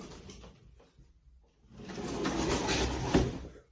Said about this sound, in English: So to save space, you've got the sliding door.